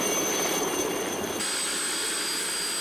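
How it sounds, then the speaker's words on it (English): Rescue helicopter flying near the summit of Mont Blanc, a steady broadband rotor and engine roar filling the whole short stretch at moderate, even loudness, with no voices. "The helicopter's just bringing him back."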